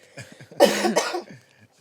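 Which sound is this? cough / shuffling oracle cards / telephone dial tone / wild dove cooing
cough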